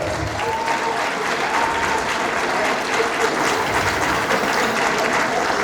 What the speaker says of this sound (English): Let's give our entertainers another round of applause.